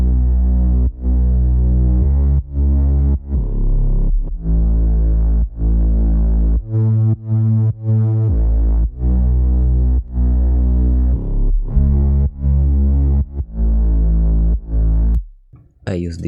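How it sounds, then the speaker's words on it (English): A Serum-preset synth bass for the verse of a melodic dubstep remix plays alone: thick, droning sustained notes in a rhythmic pattern with short gaps and a brief gritty wobble midway, ending in a short glitchy burst. "The bass for the verse part is a bit different from the intro."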